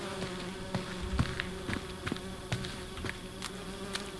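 Flies buzzing and whining in a horror video game, a dense insect drone with sharp close passes flicking by alone throughout.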